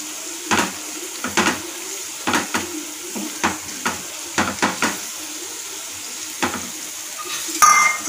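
Ground spice masala fries in a pan for a restaurant-style paneer tikka masala, under a steady sizzle. A spoon scrapes and stirs in rhythmic strokes, with no talking.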